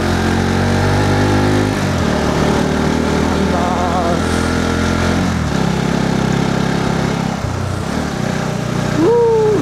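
A motorbike labours up a steep mountain track, its engine loud and close, droning and revving with shifts in pitch as it strains, a brief voice rising near the end.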